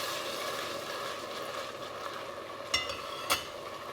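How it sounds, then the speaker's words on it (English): Risotto rice simmers with hot stock in a pan under leisurely stirring, giving a soft continuous bubbling sizzle with a couple of brief scraping knocks from the spoon near the end. "You can just do this kind of leisurely stirring."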